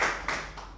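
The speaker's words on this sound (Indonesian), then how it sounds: "Tepuk tangan dulu tuh." Hands clap in a short burst of a few quick, sharp claps, close and fairly loud, with no talking.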